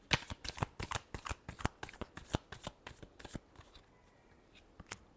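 Tarot cards being shuffled by hand, a close, quiet series of rapid riffling flicks in an uneven rhythm that trails off near the end.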